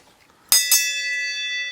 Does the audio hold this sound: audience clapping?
no